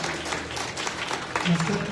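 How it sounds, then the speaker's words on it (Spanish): A church congregation applauds the Lord after a shared sermon, a dense wash of clapping filling the space at steady loudness, with a voice briefly rising over it near the end. "Damos un aplauso al Señor, hermanos, por la palabra compartida."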